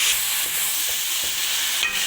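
Finely ground garlic, about a tablespoon, fries in roughly two tablespoons of oil in a pan, giving a steady close sizzling hiss that carries on evenly without a break.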